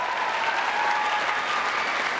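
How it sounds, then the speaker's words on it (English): Steady, dense applause from a studio audience at a televised ice-dancing competition, loud and continuous throughout with no voices over it. "please, a big round of applause."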